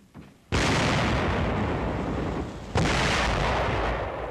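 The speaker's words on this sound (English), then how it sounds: "Opening fire on an enemy pillbox at the city's east gate" Heavy gunfire opens on an enemy pillbox at a city gate in archival wartime film, two loud booming blasts that each roll into a long, dense, sustained roar.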